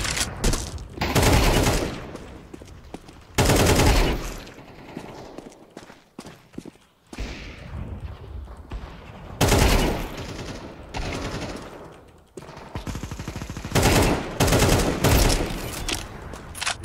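Gunfire in a video game: loud bursts of rapid shots come in several separate volleys with brief quieter gaps between them, and no talking over them.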